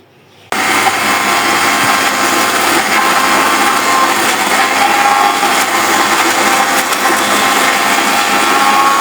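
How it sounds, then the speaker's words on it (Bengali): A blender runs steadily, loud and close, churning boiled bottle gourd leaves for shutki bora; the whirring motor starts abruptly after a brief quiet moment and holds unbroken to the end. "এখন এটা ব্লেন্ডারে ব্লেন্ড করে নিব"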